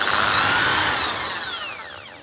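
A brand-new power tool whirs at full speed right after switching on, a loud steady high-pitched motor whine that slowly winds down and fades over a couple of seconds.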